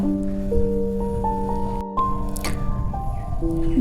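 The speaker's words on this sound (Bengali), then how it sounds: "জল দিয়ে এটাকে ভালো করে আমি কিছুক্ষণ মিশিয়ে নেব" Gram flour batter being stirred with water in a bowl, giving soft wet squishing and spoon clicks over steady background tones, no voices.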